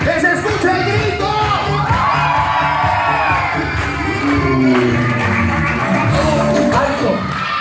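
Children and a party crowd shout and cheer loudly and continuously at a lively kids' party show, a dense wall of excited voices with whoops rising and falling throughout.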